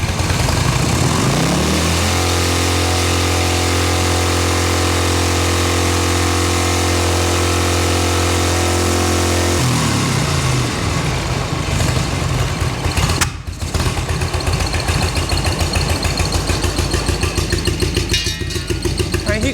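Cold motorcycle engine, a budget bagger on a CV carburetor swap, idling loud and steady at about 48 degrees, first with a low even hum, then rougher and more uneven as it keeps running.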